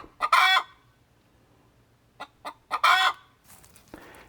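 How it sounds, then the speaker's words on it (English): Several hens in a simple backyard coop cluck and crow in short, close bursts separated by quiet pauses, with soft scratchy movement near the end. "We brought 4 hens."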